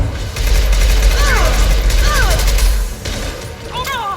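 Gunfire in Mass Effect 2 crackles as a loud, dense burst of rapid shots over a heavy low rumble, easing off near the end, with faint voices and game tones mixed in.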